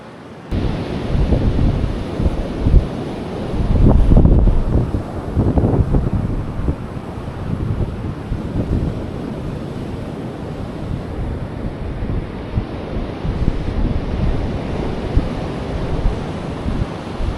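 Ocean surf rolling onto a beach on the Outer Banks of North Carolina, where homes stand condemned at the eroding shoreline, a steady broadband roar with gusty wind buffeting the microphone and a swell around four seconds.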